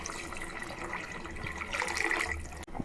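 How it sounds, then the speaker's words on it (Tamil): Half a litre of water pours into a pot of mint rice, a steady close splashing stream that ends abruptly. "ஒரு 1/2 லிட்டர் தண்ணி ஊற்றிக்கிறேன்."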